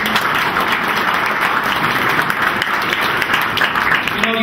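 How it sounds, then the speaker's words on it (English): Audience applause at a legislative awards lunch, a dense, steady wash of clapping hands filling the room for the full length without a break. "So give yourself a big round of applause."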